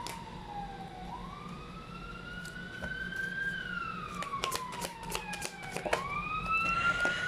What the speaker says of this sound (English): Sorry about if you can hear the sirens and all that.